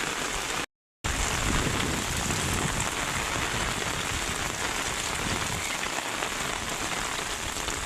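Heavy monsoon rain pours steadily on a house and fields in rural Odisha, a dense, loud, continuous hiss of drops drumming on surfaces, with a brief gap of silence near the start and no voices.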